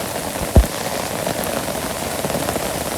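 Steady rain falls in a Bangladeshi village, a dense even hiss close by, broken once by a single sharp drip or knock near the start.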